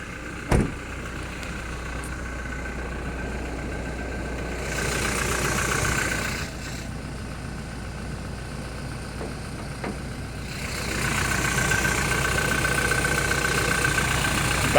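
Toyota Innova Crysta G eight-seater engine idling, a steady, even mechanical hum that rises slightly in a few stretches, with a brief knock near the start and no talking.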